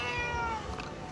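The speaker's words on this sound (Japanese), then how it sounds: "キララちゃん、 この猫の声がちっちゃくなっちゃうかな" A cat meows in a home shelter room for rescued cats, a drawn-out meow with harmonics that fades over about a second amid soft room noise.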